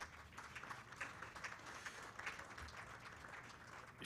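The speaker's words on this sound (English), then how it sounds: "let's give Honorable Lady Justice a round of applause" An audience at a high-level symposium on sexual and gender-based violence in Uganda claps for a speaker, a steady patter of many hands that carries on evenly, faint and distant as if picked up from across the hall.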